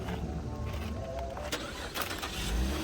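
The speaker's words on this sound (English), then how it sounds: "Started up without a jump, which sounds mighty quiet." A 2010 Cadillac CTS at a towing auction starts up without a jump, its engine settling into a quiet, steady idle under broad background noise.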